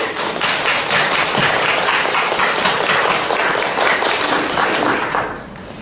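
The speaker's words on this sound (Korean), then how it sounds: "한번 우리 감사의 박수 한번 보내주십시오." A congregation of retired pastors at a Wednesday worship service breaks into loud, dense applause of thanks that rolls on evenly for several seconds, then quickly dies away.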